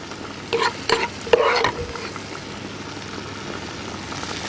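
Chicken frying in a pan with zucchini, carrot and peppers, stirred through the hot oil: a few scraping stirs early on over a soft, steady sizzle, close and fairly quiet.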